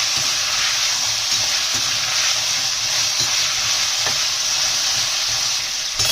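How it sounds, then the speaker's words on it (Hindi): Mixed vegetables with cauliflower half-frying in oil over a medium flame, a loud steady hiss and crackle of sizzling up close, with occasional stirring knocks and no voices. "हमें जो ये वेजिटेबल्स हैं ये हाफ फ्राई करने हैं।"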